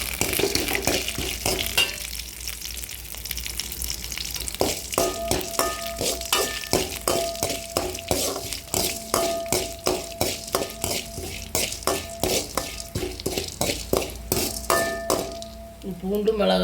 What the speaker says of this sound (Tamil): கொஞ்சமாக எண்ணெய் ஊற்றி இதெல்லாம் வறுத்து எடுத்துக்கலாம். கொத்தமல்லி, சீரகம் இதெல்லாம் போட்டுடலாம்.